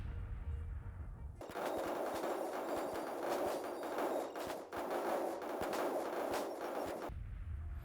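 Rapid cannon and artillery fire from a sped-up battle in the Civil War strategy game Grand Tactician during the Battle of Mobile, a dense rumbling barrage of overlapping booms running steadily for about six seconds between quieter stretches.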